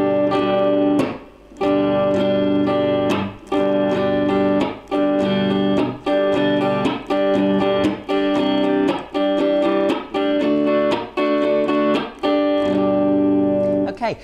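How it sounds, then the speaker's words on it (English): An acoustic guitar is strummed in a steady repeating pattern, each cycle punctuated by a short muted percussive chop, loud and close without any talking. "So this strumming pattern is a downstroke,"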